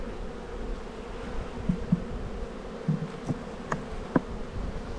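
Honey bees buzz over a hive frame in spring, a dense, close, continuous hum with scattered louder individual buzzes passing near.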